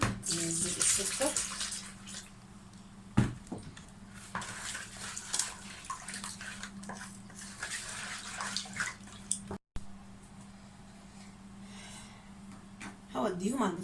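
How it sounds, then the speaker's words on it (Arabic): Water runs and splashes steadily into a pot of sugar and pumpkin for jam for several seconds, with clinks and small knocks around it and a brief break near the end. "برضه هحط حبة مية ننزل السكر."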